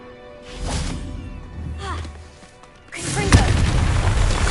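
A Confringo fire spell in Hogwarts Legacy bursts in a deep booming explosion, with an earlier rumbling blast and a louder, sustained crackling boom that follows.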